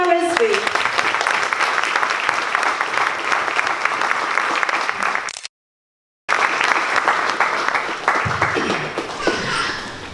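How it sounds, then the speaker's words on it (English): A crowd at a solidarity event claps in loud, sustained applause welcoming a speaker; it breaks off briefly, then resumes just as strongly before tapering. "please join me in welcoming her with a huge round of applause, Dr. Seema Rizvi."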